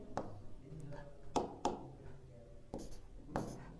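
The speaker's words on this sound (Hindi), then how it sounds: "अब देखो थर्ड फॉर्मूला लिखते हैं।" A math formula being written by hand, likely with pen or chalk, for a differentiation lesson; a few scratchy strokes and taps recur at irregular intervals, close and moderately loud, with no talking.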